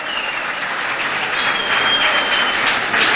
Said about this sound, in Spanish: Denle un fuerte aplauso a cada uno de ellos que hoy están en la mesa